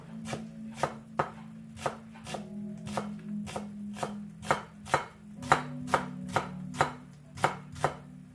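A knife chops fresh onions on a cutting board in a home kitchen, a steady run of crisp, close thuds at a brisk, even rhythm over a low background hum.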